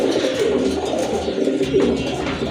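Large white pigeons kept for sale coo steadily in a low, continuous chorus, several birds overlapping close by with no talk.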